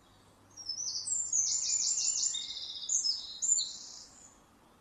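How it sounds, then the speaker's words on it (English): A wren in Ireland sings a loud, rapid song of high, sharp notes that run into a fast trill, clear and close against a quiet background. "This is the song of the wren, a ubiquitous bird in Ireland, and one that is really loud."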